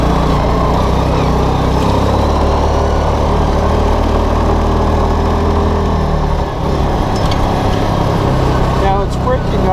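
A Linhai Big Horn 400 4x4 ATV engine with an intermittent crank-and-stall fault runs steadily and loud up close, a rough mid-pitched idle that wavers and stumbles slightly toward the end.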